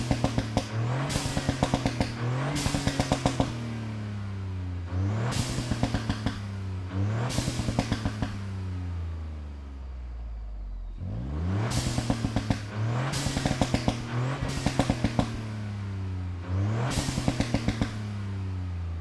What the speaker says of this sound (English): I'm gonna fire up the car in a minute and let you guys hear what that sounds like.